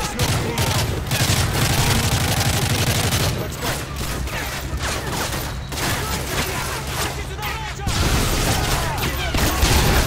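Dense, loud gunfire rattles continuously through a firefight in Call of Duty: Modern Warfare 3, with bursts overlapping and booms mixed in, and voices shouting faintly under the din.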